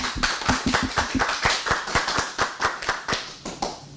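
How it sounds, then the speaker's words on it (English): Sparse, nearby handclapping from a small group at a school awards ceremony for scholars, individual claps distinct and irregular, moderately quiet, tapering toward the end. "Let's give those scholars a round of applause"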